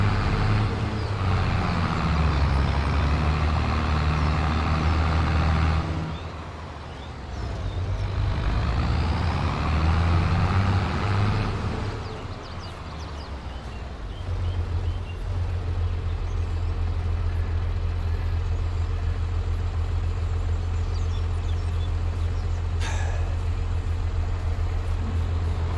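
A truck pulling a Michelin trailer in a Farming Simulator game gives a steady low engine drone with rumbling bass. It dips and shifts in pitch around the middle, then settles into a constant hum with a brief hiss near the end.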